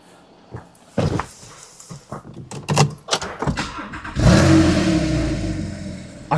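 A Porsche 911 Targa 997.2 4S with a 3.8-litre naturally aspirated flat-six starts up after a few clunks, then settles into a loud, gruff idle.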